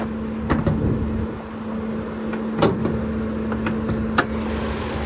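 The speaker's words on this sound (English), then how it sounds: "There's that 2-liter naturally aspirated 4-cylinder." A 2018 Mazda CX-3 Grand Touring's 2-liter naturally aspirated four-cylinder idles with the hood open, giving a steady, even hum close up, with a few faint clicks and taps over it and no talking.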